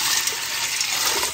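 Six cups of water gush steadily into an Instant Pot over rinsed dry beans from the package. A close, continuous splashing pour lasting about a second.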